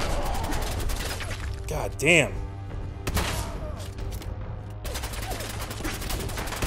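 Enemy gunfire in Fallout 4 crackles in dense bursts alongside the player's own shots, with a sharper crash near the middle, while someone talks over the action.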